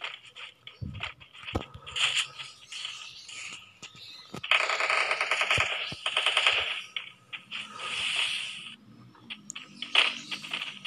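Shotgun fire in a competitive video game match, with sharp, rapid bursts and clattering impacts scattered across the clip, some shots close and loud, others quicker and lighter, under a steady game soundscape.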